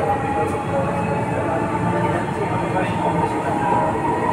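A Dhaka metro rail train bound for Motijheel rolls along with a loud, steady rumble and hum inside the carriage, continuous throughout with faint rhythmic clicks, and a voice is heard over it.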